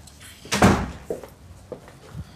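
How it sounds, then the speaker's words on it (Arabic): A door opening for an arriving visitor in a home, a loud close thump followed by a few lighter knocks and rattles over about two seconds. "بعد ناقص افتح لها الباب."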